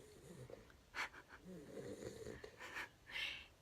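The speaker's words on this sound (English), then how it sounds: "If you didn't know dog snored, I got the proof." A dog snores softly in slow, wheezy breaths, quiet and close, with faint snorting rasps and no talking.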